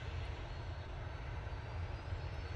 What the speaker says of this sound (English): 737-800, now on the roll.